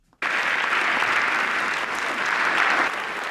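Sustained applause from a ballroom audience at the White House Correspondents' Dinner, starting abruptly after a moment of quiet and holding steady and dense throughout.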